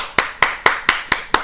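Six sharp, evenly spaced hand claps, close and loud, in a steady rhythm with no talk.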